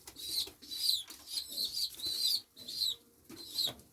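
Hünkar pigeons in a coop, with repeated soft bursts of wing flapping and rustling mixed with faint cooing, close and fairly loud in rhythmic clusters.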